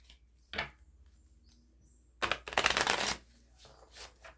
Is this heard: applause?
no